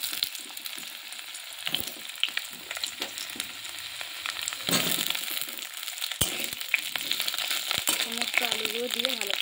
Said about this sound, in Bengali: ওর মধ্যে টুকরো করে কেটে রাখা আলুগুলো দিয়ে দেব। আলুগুলো একটু লাল লাল করে ভেজে নেব।